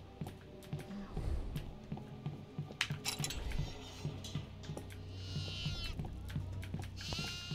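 Goats bleat repeatedly inside the horror video game Devour, short animal cries scattered over a low droning hum with occasional clinks and thuds.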